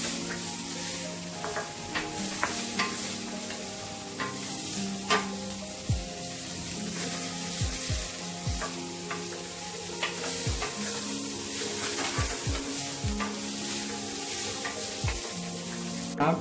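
Prawns and chilli stirred and sizzling in a pan: a constant frying hiss with repeated scrapes and clinks of a spoon against the pan, close and steady throughout, with no talking.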